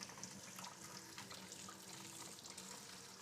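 Tap water running steadily over raw beef in a kitchen sink as it is washed for barbacoa, a soft continuous splashing stream at moderate distance with no talk.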